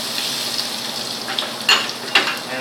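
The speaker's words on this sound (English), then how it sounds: "And first I'm gonna add some vegetable oil in here. And let's start with some chopped garlic here." Chopped garlic sizzles in hot vegetable oil in a pan for vegetable fried rice, making a steady, close frying hiss with a couple of sharper spits near the end.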